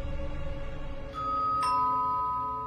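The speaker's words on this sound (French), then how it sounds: "Un coup de sonnette déchire la nuit" A single doorbell ring at night, a clear two-tone chime sounding over a low background hum and sustaining as it fades.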